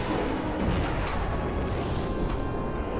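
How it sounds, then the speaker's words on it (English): Continuous roar of overlapping blasts and rumbling booms fills a Final Fantasy IX battle, dense and loud throughout with no pauses between impacts. "Man, that's a lot of explosions."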